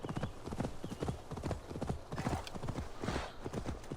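A horse's hooves clip-clop in a steady, rapid rhythm in Assassin's Creed Valhalla, loud and close, with clear repeated strikes that carry through the whole stretch.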